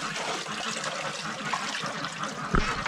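Water splashes and trickles steadily into a bucket set out for ducks in their summer house, a continuous close pour with a brief louder slosh near the end.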